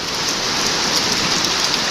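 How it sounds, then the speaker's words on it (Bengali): Heavy rain in Faridpur pours down steadily as a dense, continuous hiss of drops hitting surfaces, close and loud with no break. "প্রচণ্ড পরিমাণ বৃষ্টি হচ্ছে"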